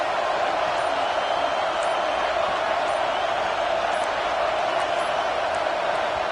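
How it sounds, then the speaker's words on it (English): Loud stadium crowd roaring steadily on third down at an Ole Miss versus South Carolina football game, a dense continuous wall of cheering with no pauses. "Decibels rising as the crowd gets behind this defense on third down."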